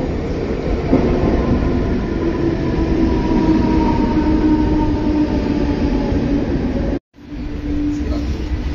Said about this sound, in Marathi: तर मंडळी, आता आम्ही वाशीवरनं ट्रेन पकडली आहे।